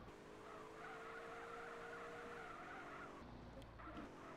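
Car in GTA San Andreas with modified four-wheel-drive handling sliding into a drift, a steady loud tire skid squeal with engine hum, then the squeal fades and breaks off near the end.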